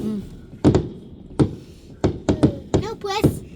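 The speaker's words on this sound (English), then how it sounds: "Yes, that's fireworks." Bonfire night fireworks in Ashton-under-Lyne: a run of sharp, irregular bangs and thuds about a second apart, fairly close, with a voice heard among them.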